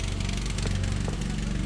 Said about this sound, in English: this dude over here on the ride-on lawnmower